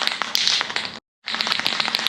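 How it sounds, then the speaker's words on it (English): Two hissing bursts of gloss black aerosol spray paint on a Nissan Skyline, loud and close, separated by a brief pause, with faint crackling in the hiss. "Let's give it a spray."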